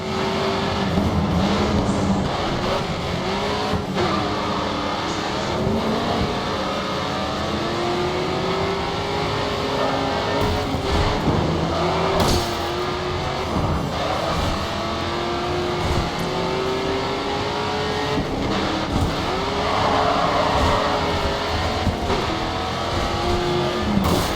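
Race cars in the Grid 2 video game roar continuously, engines revving up and down through gear changes with occasional tyre noise, a dense close-up mix of several cars racing without talk.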